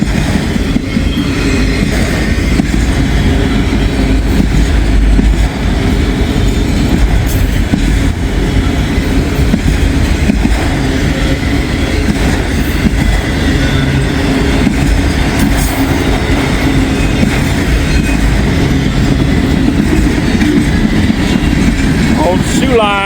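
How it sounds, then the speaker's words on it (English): A train passing on the old Sioux line rumbles loud and near in a continuous heavy roar, with wheels squealing briefly toward the end. "Pretty good train here."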